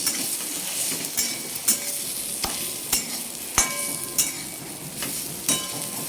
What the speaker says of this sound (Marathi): तेलामध्ये आपल्याला याला छान परतून घ्यायचं आहे